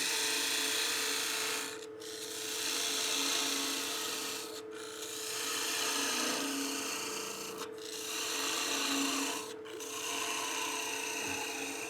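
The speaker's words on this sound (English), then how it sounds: "Down to about a 1/2 inch in diameter, and you can hear the pitch change on the cut." Woodturning gouge cutting a wood blank on a lathe while parting a lid down to about half an inch, giving a steady raspy scraping hiss whose pitch shifts, interrupted by four brief pauses as the tool lifts away.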